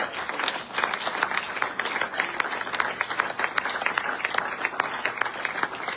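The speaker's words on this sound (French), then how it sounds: "Acclame très fort à la gloire de l'Éternel." A church congregation applauding and cheering, steady dense clapping that fills the whole stretch at moderate loudness, with no clear speech over it.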